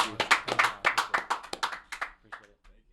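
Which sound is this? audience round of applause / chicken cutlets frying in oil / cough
audience round of applause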